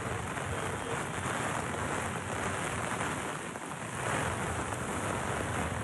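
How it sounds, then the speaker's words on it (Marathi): Heavy afternoon rain pours down over the flooded Mithagar salt-pan area of Vasai-Virar as a dense, even roar of rainfall with no breaks and no voices. "वसई विरारमध्ये दुपारनंतर तुफान पाऊस सुरू झालेला आहे"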